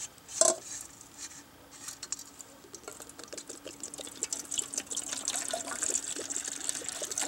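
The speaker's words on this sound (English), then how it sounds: "we're gonna put a little water in it using our canteen" Water poured from a canteen into a 2-quart pot, a steady close trickle and splash that runs continuously after a brief clank at the start.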